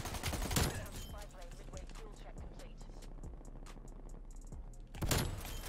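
A strafe run in the video game Prop Hunt brings loud, rapid gunfire bursts at the start and end, with quieter scattered shots and game noise in between.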